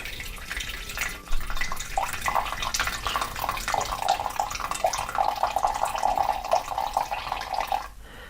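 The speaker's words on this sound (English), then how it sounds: "I'm going to fill this with 1/4 pint of hot water to dissolve it." Hot water pours steadily from close by into a bowl of raspberry sugar-free jelly crystals, a continuous splashing trickle with bubbling gurgles lasting several seconds before stopping abruptly.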